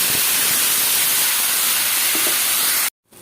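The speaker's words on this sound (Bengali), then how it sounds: "সামান্য একটু জল দিয়ে ভেজে দেবো।" Turmeric powder frying with a splash of water in a hot pan gives a loud, steady, hissing sizzle like rushing steam that holds for nearly three seconds and then cuts off abruptly to near silence.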